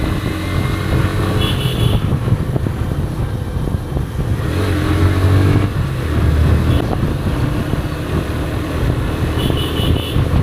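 A Yamaha FZ-S V3 motorcycle on an evening ride, its engine droning loudly and continuously with surges as the throttle opens and eases, mixed with wind rush, nobody speaking.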